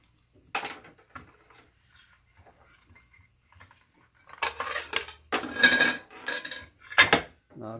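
A nut is loosened on a circular saw and the blade is lifted off, heard as sparse light metal ticks that give way to several sharp, close clanks and rattles of metal parts.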